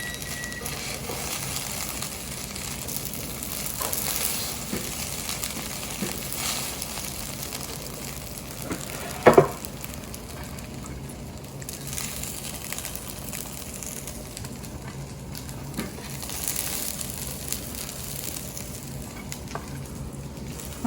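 Kabuli rice mixed in a cooking pot, a low continuous sizzle and hiss with occasional soft scrapes of a spoon and one sharp clack near the middle, steady and close with no voices.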